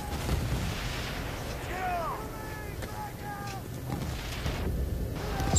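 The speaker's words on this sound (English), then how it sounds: "So many explosions" Explosions and gunfire rumble through a Battlefield 1943 battle on Guadalcanal, heavy continuous blasts with whistling projectiles and someone talking over the combat.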